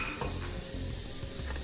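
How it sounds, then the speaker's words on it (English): Carrots sizzle loudly and steadily in olive oil in a pan, a dense, close crackle with faint stirring underneath. "So I'm gonna add a little more olive oil. Add the carrots in there."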